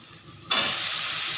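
Sliced pointed gourd (potol) hitting a hot oil pan in a home kitchen, with a sudden loud sizzle that starts after a quiet moment and then holds as a steady, close frying hiss.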